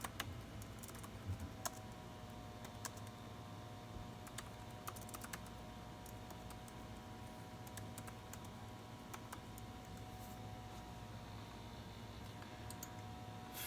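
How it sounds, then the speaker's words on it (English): Computer keyboard typing as an ASMR sound: steady, quiet key clicks that run continuously at a soft, even level, close to the listener. "I hope you're enjoying the ASMR of my keyboard typing."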